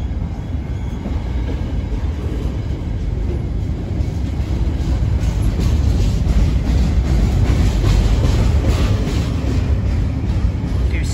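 A heavy Class 66 freight locomotive, 66034, rumbles steadily with a deep, continuous low roar, holding loud throughout as it moves off nearby at Walkden, heading for the Knowsley freight terminal.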